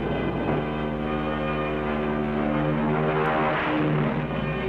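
Propeller-driven torpedo bomber planes take off one by one from the deck of an aircraft carrier, a steady loud droning engine roar filling the whole stretch without voices.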